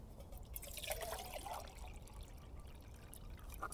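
Fresh cold water poured for Swedish-style camp coffee, a steady liquid trickle and splash running through the whole stretch, fairly close and moderately loud with no talking.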